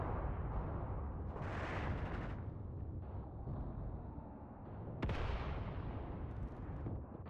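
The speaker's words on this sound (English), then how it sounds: "Keep it up, just keep firing at that thing." Artillery guns firing in the war game Mius Front, a deep rumbling barrage with two heavy booming blasts that roll and fade, loud and distant-sounding, no voices over it.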